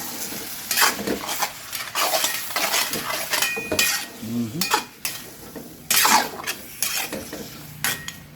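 Chicken adobo with cream stirred in a pan: repeated scraping and clinking of a utensil against the pan in an uneven rhythm, with a soft sizzle underneath, close and moderately loud.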